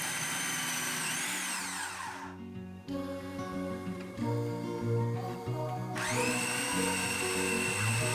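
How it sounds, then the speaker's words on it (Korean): Food processor cutting cold butter into flour for scone dough, a steady motorized whir with shifting pitch and brief pauses between pulses, running alone and close. "버터 조각이 새끼 손톱만한 크기가 될 때까지 푸드 프로세서를 작동합니다."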